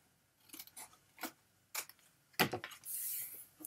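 Scissors snipping out score-line intersections in paper, several short crisp cuts spaced irregularly, close and fairly quiet, ending with a brief rustle and no talk.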